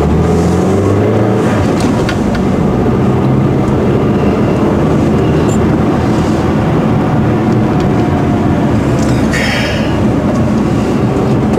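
A car in Bonn pulls away from a stop, its engine and road rumble steady and loud from inside the cabin throughout, with no talk.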